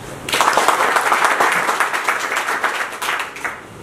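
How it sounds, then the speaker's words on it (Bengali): An audience at a pigeon club prize-giving ceremony breaks into a burst of applause that holds loud and full for a few seconds, then fades away. "এই জন্য সবার জন্য তালি দেন।"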